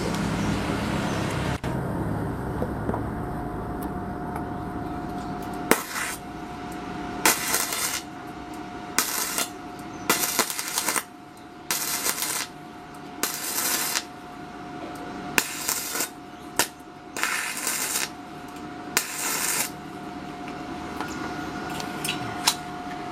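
A REDBO 120A flux-core MIG welder runs on thin steel in repeated short bursts of crackling buzz, separated by pauses, over a constant background hum and nearby traffic.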